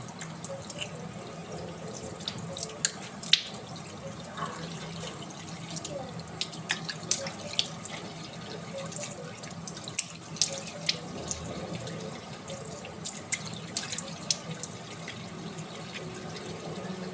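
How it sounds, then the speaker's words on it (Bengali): A tap runs steadily as water rinses a homemade skin remedy off, giving a continuous close splashing with scattered drips and hand-splash accents throughout. "এবার আমরা এটাকে ভালো করে জল দিয়ে ধুয়ে নিই।"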